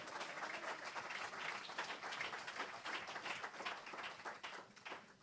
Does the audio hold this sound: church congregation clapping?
yes